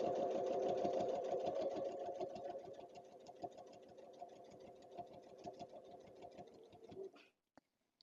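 A regular home sewing machine quilting fabric runs in a steady, rapid stitching rhythm at close range. It holds a constant pace for about seven seconds, then stops, leaving a couple of faint clicks.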